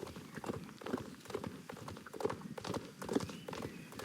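Horse hooves clip-clop at a steady running rhythm in the Star Stable video game, close and continuous, with occasional soft whinny-like accents layered over a dense game soundscape.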